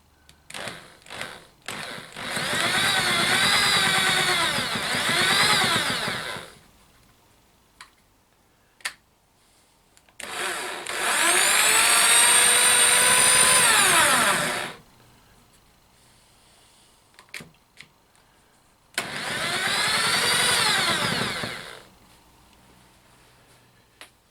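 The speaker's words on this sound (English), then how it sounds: "Reversing the drill." A pistol drill running in reverse on a CNC router build whirs steadily in three long bursts separated by quiet gaps and small clicks, its pitch rising and falling slightly.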